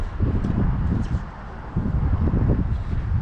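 Wind blowing during fly fishing beside water, heard as a low, buffeting rumble of gusts across the microphone that swells and eases in waves.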